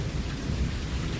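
Steady rain falls with a low, rolling thunder rumble beneath it, a brief and fairly quiet stretch of a July storm.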